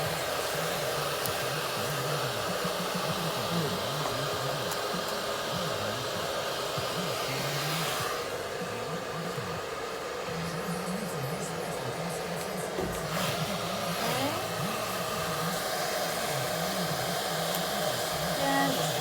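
A hair dryer blows steadily on hair during a minimal-volume blow-dry, with a close, continuous roar that dips and shifts briefly as the dryer is moved, and no talking.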